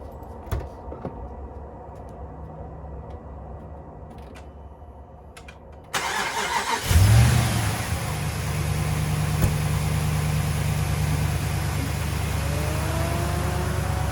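Quiet idle background, then a rebuilt Dodge Ram 5.7 Hemi V8 engine cranks and roars to life, settling into a loud, steady rumbling idle with a faint whine above it.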